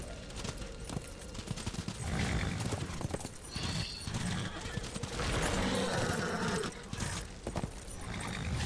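Horse hooves gallop in a fast, steady clip-clop through a Darksiders battle scene, mixed with dense, loud game effects and rumbling throughout.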